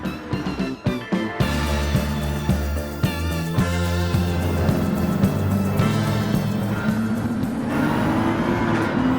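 Nissan GT-R '17 racing in Gran Turismo 7 at the Tokyo Expressway in the World Touring Car 600, its loud sustained engine drone rising in pitch as it accelerates, mixed with background game music throughout.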